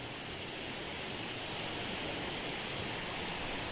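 The Deschutes River flowing on a sunny winter day, a steady broadband rush of water, even and continuous, with no voices over it.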